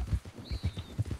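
Horse hooves clip-clop in the RedM video game, a quick run of soft, rhythmic thuds close by with no talking over them.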